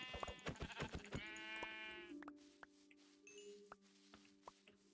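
Sheep in the video game Minecraft bleat in a quick run of short, wavering cries, followed by a few soft hits and clicks in a quiet setting.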